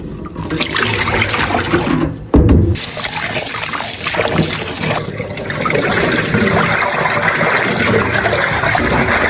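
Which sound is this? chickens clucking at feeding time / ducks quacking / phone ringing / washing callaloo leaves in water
washing callaloo leaves in water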